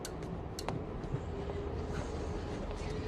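A train rumbles past at a distance in the 1998 film Blade, a dense low roar with faint rail clicks and screeches layered over it.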